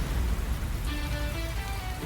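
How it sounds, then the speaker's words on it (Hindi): Steady rain falls throughout a short outdoor scene from a Hindi TV drama, a dense continuous wash at moderate level, with faint tonal background music entering partway through. "बारिश में क्या कर रहे हैं?"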